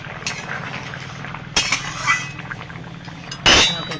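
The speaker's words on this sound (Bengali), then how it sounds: "ঢাকনাটা তুলে একটু নাড়িয়ে দেব।" Lid lifted off a pot of fish curry with potato and tomato and the contents stirred, a few close metallic clinks and scrapes over a quiet kitchen background.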